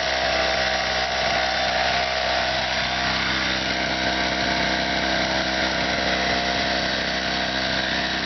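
A small portable generator engine runs at a constant, loud, buzzing drone with no change in pitch or pause for the whole stretch.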